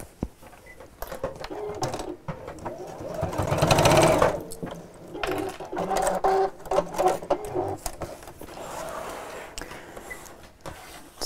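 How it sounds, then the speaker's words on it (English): Sewing machine stitching across the strap ends of a zipped tote bag, a rapid mechanical whirr that swells and eases in short runs, fairly close and with no talking. "I'm just going to sew across the ends to hold those in place."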